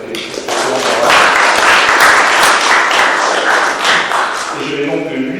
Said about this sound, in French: Donc je vous demande par avance d'applaudir Jean-Marc qui a fait excellent travail.